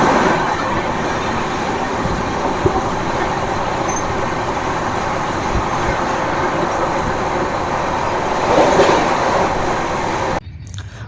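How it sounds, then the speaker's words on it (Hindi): The Howrah Bikaner SF express runs at high speed, around 128 to 144 km/h, with a loud, steady rumble and rolling clatter. It ends abruptly near the close. "ये train maximum 144 kilometre per hour तक स्पीड पकड़ी है और एवरेज 128-29 की स्पीड में जा रही है"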